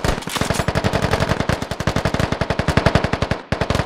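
Rapid automatic gunfire from the military shooter Squad, a long sustained burst of evenly spaced loud shots close by, briefly pausing near the end before resuming.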